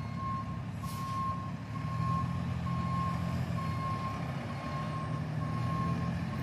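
A truck's reversing alarm beeps in a steady repeating rhythm over a constant low engine rumble, close by, with no talking.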